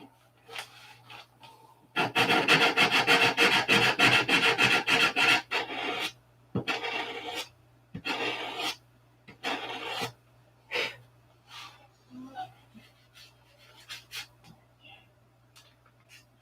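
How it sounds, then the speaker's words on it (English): Sandpaper rubbing a prop piece round, a steady dense rasping for several seconds, then shorter separated strokes tapering into sparse light scrapes, close and fairly loud with no talking. "Get that sanded round."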